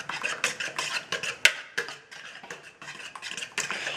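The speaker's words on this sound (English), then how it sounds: "I'll do the mixing." Eggs being whisked in a bowl for pumpkin pie: rapid, close clinking and tapping of a utensil against the bowl in an uneven rhythm, fairly loud and free of talk.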